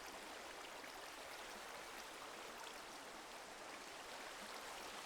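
Flowing water from a fountain in the video game Minecraft, a faint, steady, even rushing hiss that continues without a break.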